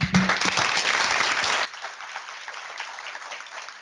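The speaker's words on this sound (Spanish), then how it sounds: "agradecemos con un fuerte aplauso aquí a Gustavo" An audience at a talk on fintech consolidation in the Chilean financial market gives a burst of loud applause for about a second and a half, then it falls away to scattered faint claps and room noise.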